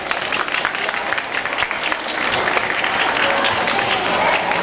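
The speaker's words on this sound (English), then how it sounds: "let us warmly welcome our new Head Prefect, Li Ruiling Brenda, by giving her a big round of applause" Warm applause from a school assembly audience on Leaders Day for a new Head Prefect, continuous crowd clapping that grows slightly louder and denser partway through.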